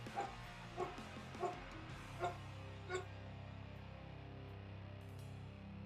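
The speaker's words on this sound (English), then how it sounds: "Doggos." Dogs barking and whimpering indoors: about five short yips spaced roughly half a second apart, moderately near, then fading into a quiet hum of the room, with no talk.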